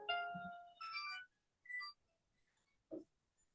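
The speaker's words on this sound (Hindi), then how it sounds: "किसी का फोन बज रहा है" A mobile phone ringtone plays faintly in a room, a short melodic electronic phrase of a few tonal bursts separated by brief pauses, with little else around it.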